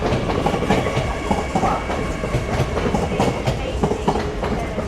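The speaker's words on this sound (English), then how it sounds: "Arriving in now is, believe, your 1519 LNER Azuma service from York to London King's Cross." LNER Azuma train pulling into Doncaster station, a loud steady rumble of wheels with rhythmic clickety-clack over rail joints and a faint squeal, heard up close on the platform.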